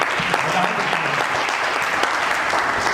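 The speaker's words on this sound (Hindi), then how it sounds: "जोरदार ताली मम्मी के लिए" Enthusiastic applause for a speaker's mother at a network marketing training session in Haridwar, a dense, loud, steady clapping from a large audience filling the room, with voices faintly mixed in.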